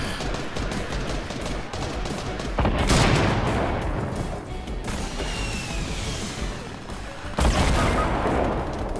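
Dense bursts of gunfire from a Fortnite battle royale match, rapid overlapping shots and loud booming blasts that swell and fade in waves, close and intense throughout with no talk.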